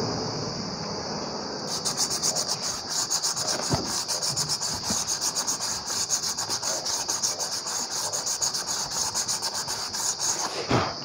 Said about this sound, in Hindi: अब इसको ड्रम में साफ़ करके रेगमाल मारूँगा